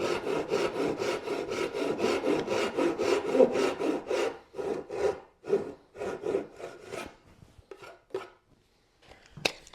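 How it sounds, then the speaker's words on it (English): A handsaw cuts wood to a marked line in a woodworking shop, producing close, rhythmic rasping strokes that start steady and quick, then slow into spaced, separate pulls and stop. "Now I'll use the handsaw and cut it to the mark."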